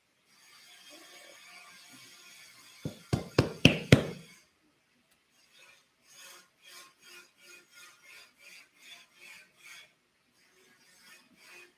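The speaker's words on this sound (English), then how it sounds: "Drilling is pounding my head." Drilling pounds away in the background with a rasping burst of four sharp impacts, then a steady series of short repeated grinding pulses, moderately loud and without talk.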